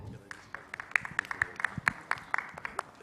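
Scattered, distinct handclaps come from a hospital stroke symposium audience, a sparse and uneven clatter of individual claps at moderate volume over a quiet room.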